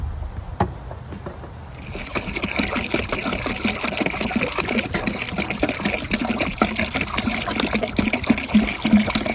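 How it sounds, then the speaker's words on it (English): Water soaked with banana pieces pours from one jug into another in a steady splashing, trickling stream that stays fairly loud and close throughout, with no talking. "I'm going to combine these 2 jugs of bananas that's soaked in water"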